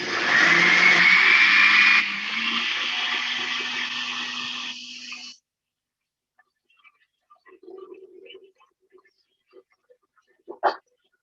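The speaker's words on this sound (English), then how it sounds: "I'm going to blend. So it's going to be a little noisy for a second, but it's the blender going." Kitchen blender whirring loudly as it purees garlic sauce ingredients, a steady dense roar that shifts pitch after two seconds and stops abruptly near five seconds, followed by faint clatter and small knocks.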